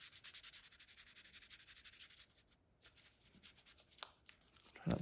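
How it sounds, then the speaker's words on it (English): Superfine 2000 grit sandpaper rubs back and forth across a quartz countertop repair, a close, faint rhythmic scratching that pauses and resumes in shorter strokes. "I'm just going to go straight to the superfine 2000 grit sandpaper"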